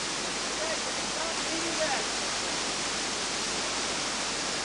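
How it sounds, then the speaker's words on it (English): Tons of water thundering over a ten-metre waterfall drop, a dense, steady roar close by that fills the whole clip without pause. "Once you're over the edge, then you've just got water thundering down all around you"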